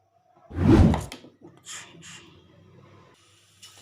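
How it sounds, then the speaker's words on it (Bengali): Battered pakoras are dropped into hot oil: a loud sharp hiss bursts up close, then softer, shorter sizzling puffs follow as more pieces go in. "এইগুলো এক এক করে তেলে দিয়ে দেবো"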